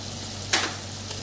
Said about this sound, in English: my garlic and ginger have nicely fried